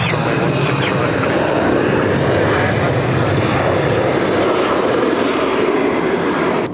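A Qantas airliner lands at Sydney Airport in wet, rainy weather, its engines a loud, continuous broad roar that holds steady for several seconds, with voices faintly present underneath.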